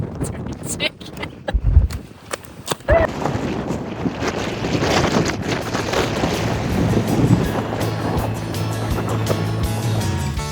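Strong wind gusting across open Badlands terrain, buffeting loudly and continuously with a broad roar that builds and stays heavy, while a person talks over it.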